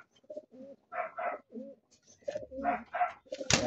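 Pigeons coo close by in soft, rhythmic repeated phrases, several calls in a row, followed by a brief sharp rustle at the end.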